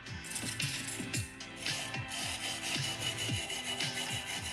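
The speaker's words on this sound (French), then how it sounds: "Tout ce qui est métal, je vais le faire au vinaigre blanc et puis la pierre à l'eau savonneuse." A metal incense burner (cassolette) being scrubbed clean with white vinegar: quick rhythmic rubbing strokes close up, repeating steadily with a brief pause near the middle.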